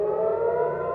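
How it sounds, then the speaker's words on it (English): An air raid siren wails over Jerusalem and Tel Aviv during a missile attack, a steady sustained tone heard briefly and fairly loud, with no voices. "Sirens wailed for much of the night as Jerusalem and Tel Aviv came under attack."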